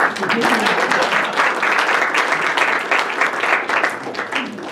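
A crowd at a business awards ceremony applauds with dense, sustained clapping that holds steady throughout.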